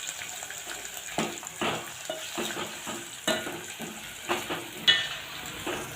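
Onion is added to a pan and sautéed, giving a soft background sizzle broken by repeated spoon-on-pan knocks and stirring scrapes at uneven intervals.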